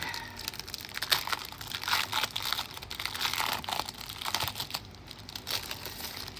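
A plastic-wrapped sticker book package crinkles and crackles up close as it is handled and opened, with irregular crisp rustles throughout.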